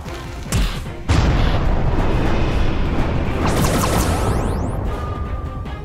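A ram weapon strikes in the space combat game Halcyon 6, with a loud booming crash and a dense, sustained rumbling impact, then sweeping whooshes trailing off.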